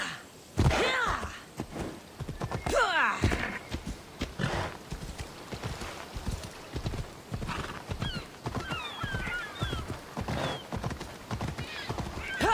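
Horse hooves in Assassin's Creed Odyssey, rhythmic clip-clop at a ride pace with a loud whinny early on, plus game ambience and faint chirps behind.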